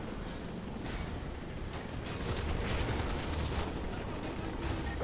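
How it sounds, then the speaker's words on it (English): Battle sounds from Modern Warfare 2 Special Ops: claymore mines blasting and gunfire crackling in a dense, continuous wash of bursts and rumble, with a few louder swells and no talk over them. "Oh god, I can hear my claymores going off."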